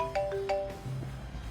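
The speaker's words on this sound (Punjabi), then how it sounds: "ਉਹਦਾ ਆ ਗਿਆ ਫੋਨ" Mobile phone ringtone playing a short run of bright melodic tones that cuts off after about half a second, leaving quiet room tone.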